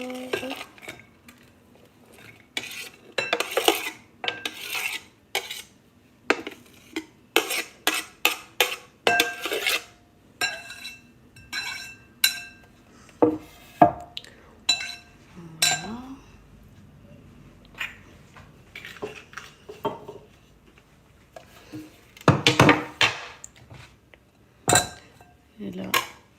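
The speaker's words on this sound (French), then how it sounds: "Je place mes oignons dans mon bol." Chopped onions tipped into a bowl in a home kitchen while making meatballs, giving repeated close clinks, scrapes and knocks of utensils and dishware in irregular bursts, with intermittent talking in between.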